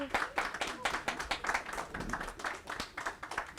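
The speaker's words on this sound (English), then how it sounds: "If you could please rise to be applauded" An audience claps steadily for a family rising to be honoured at a ceremony for the Prince of the Asante Kingdom, with dense, continuous applause throughout.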